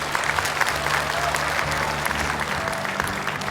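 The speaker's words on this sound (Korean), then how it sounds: "박수 부탁드립니다." An indoor audience at a political report meeting in Jeju claps steadily, a dense, even patter of many hands close to the microphone for the whole stretch.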